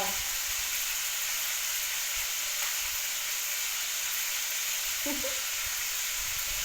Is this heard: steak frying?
yes